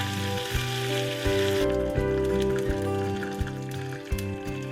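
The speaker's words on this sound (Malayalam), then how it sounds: "കടുക് പൊട്ടിക്കഴിയുമ്പോൾ കുറച്ച് കറിവേപ്പില ചേർത്ത് കൊടുക്കാം" Curry leaves crackle and sizzle sharply in hot oil after mustard seeds have popped, loud at first and then easing, with steady background music playing underneath.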